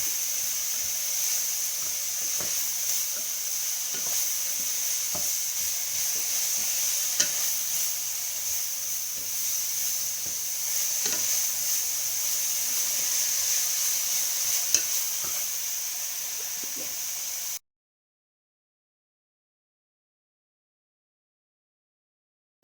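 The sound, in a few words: leeks frying in a pan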